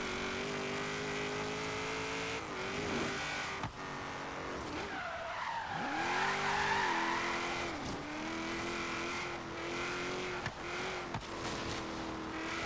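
Racing cars in Forza Horizon 3 drifting along a coastline road, engines droning and revving continuously with long tire squeals and skids throughout, loud and close.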